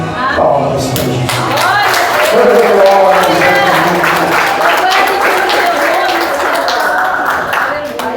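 A church congregation claps in praise during worship, a steady wash of applause under a strong sung or spoken voice with a sustained tone, loud and close throughout.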